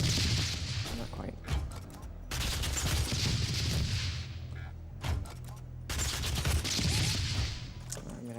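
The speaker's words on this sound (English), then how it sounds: "he's trying to chain the micro missile so he can boost up into this corner" Rapid chained micro missile shots from a weapon in Doom 2016 come as dense bursts of explosive crackling blasts. Three long volleys are separated by brief lulls, loud and continuous.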